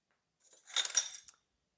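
Metal whisk and utensils clinking against a bowl, a brief cluster of light bright chinks lasting under a second, faint and isolated in an otherwise quiet kitchen.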